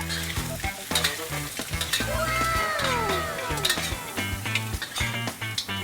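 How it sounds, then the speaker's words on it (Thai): Crab and curry powder ingredients stir-fried in a pan, a steady close sizzle broken by repeated scraping and clinking of a utensil against the pan, with faint music running underneath. "ค่อยๆผัดให้มันหอม"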